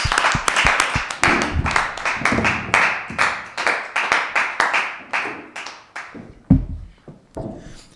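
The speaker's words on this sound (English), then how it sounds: "Applause" A small group claps at a college commitment announcement, loose, uneven bursts of hand claps at close range that thin out into scattered claps and a few thumps near the end.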